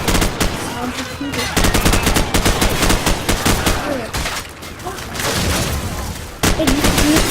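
Call of Duty 4 gameplay with dense, rapid bursts of automatic gunfire and scattered single shots, loud and continuous across the clip with brief pauses between volleys.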